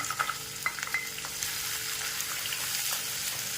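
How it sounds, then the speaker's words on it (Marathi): Steady oil sizzle of chopped onion frying, with a few light clicks and scrapes early on, then a continuous bright hiss. "त्यामध्ये बारीक चिरलेला कांदा घेतला आहे मी इथं तो टाकायचा आहे"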